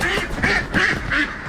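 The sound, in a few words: ducks quacking at poultry farm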